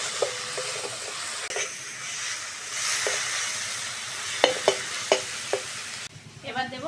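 Ginger garlic paste with salt, turmeric and chilli powder sizzles and fries in a pan while a spoon stirs and scrapes, a steady close crackle with a few sharp knocks against the pan near the end.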